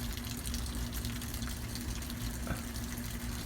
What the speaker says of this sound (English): now we got water flowing out of that thing